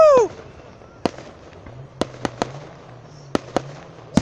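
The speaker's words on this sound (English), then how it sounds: "Spectacular fireworks show in Florence," An Independence Eve fireworks show in Florence, Kentucky, booms with sharp separate explosions popping at uneven intervals, some close and loud, after a brief cheer and beneath a low steady rumble of crowd and ambience.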